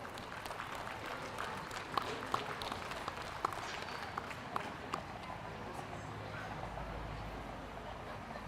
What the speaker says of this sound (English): So if you could give them a round of applause for all they do